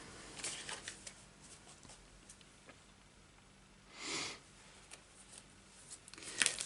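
Tarot cards are handled and shuffled close by in quiet, with soft papery riffles and flicks, a longer brushing shuffle midway and a few sharper card snaps near the end, with no talking.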